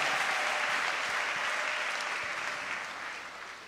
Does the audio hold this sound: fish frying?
no